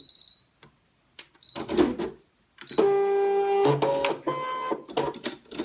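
Brother ScanNCut cutting machine drawing in a cutting mat loaded with scrap card, motor whirring and humming in steady tones with a few clicks and beeps, close and fairly loud, no voices.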